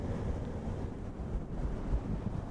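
Soft, continuous brushing close to a microphone, an ASMR sound resembling waves lapping on a beach, steady and dense with gentle low rustling swells and no voices.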